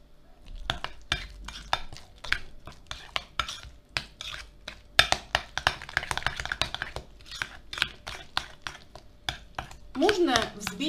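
Cottage cheese and apple filling with sour cream being stirred in a bowl, a spoon scraping and clinking in quick repeated strokes, close and clear with no talk over it.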